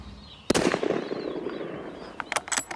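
A single loud rifle shot from a long-range hunt for bear in Montana cracks sharply out of quiet open country, its report rolling away and fading over about two seconds, followed by a few faint distant pops.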